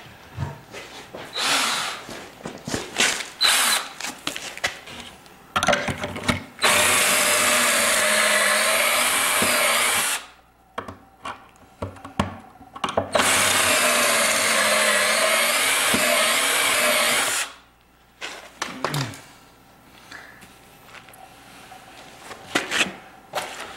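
A power drill whirs in two long, loud bursts of several seconds each, driving pocket screws into wood, separated and surrounded by handling clatter and shop noise, no talking.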